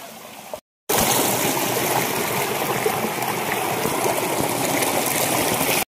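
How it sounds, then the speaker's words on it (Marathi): A clear stream flowing past banana plants at a traditional small-fish catching spot, a steady close babbling and trickling rush that starts after a brief gap and runs on evenly, no voices. "खूप सुंदर असं पाणी वाहतं इथे."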